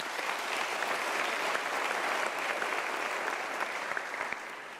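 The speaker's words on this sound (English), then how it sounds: "Ladies and gentlemen, can we give her a round of applause?" An audience at a university graduation ceremony claps in sustained, even applause that fills the hall, steady throughout with no voices standing out.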